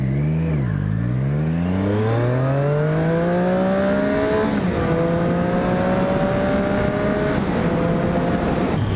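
A 2017 Triumph Street Triple 660 S three-cylinder motorcycle on its stock exhaust accelerates hard through the gears, the engine note climbing smoothly, dipping at a shift and climbing again, loud and close over wind rush.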